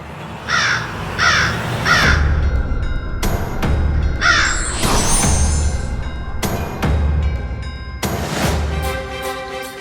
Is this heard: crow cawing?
yes